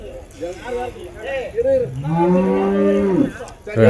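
Bullocks at a cattle market moo loudly and close by, first in several short rising calls, then in one long sustained bellow, with some background noise around them.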